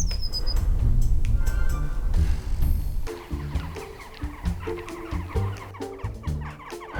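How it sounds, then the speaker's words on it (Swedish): Jackdaws call in a wintry Black Forest setting with a rapid jumble of sharp, chattering squawks, loud and close at first, then thinning into scattered calls over background murmur. "Herregud vad kajerna låter."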